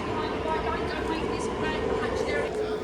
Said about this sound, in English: Is an Elizabeth line train that's departing right now.